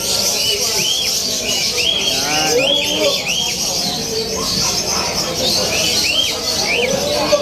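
Many caged birds chirp and tweet at a pet market in Bulacan, a dense chorus of short rising calls layered over a busy market background with people talking.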